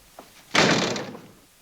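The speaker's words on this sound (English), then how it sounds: "Close that door." A door swung shut in a 1961 crime drama scene: a faint tap, then a single heavy thudding slam that rings out and fades over about a second, close by with no talk.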